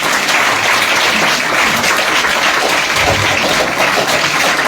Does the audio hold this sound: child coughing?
no